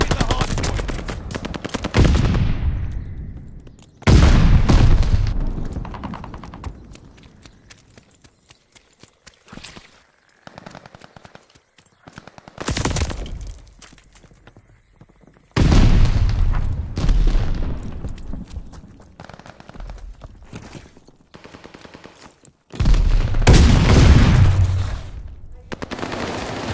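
Gunfire and explosions at a hardpoint objective in Call of Duty: Vanguard come in loud bursts of rapid shots and booms. Quieter stretches in between carry footsteps and distant shots.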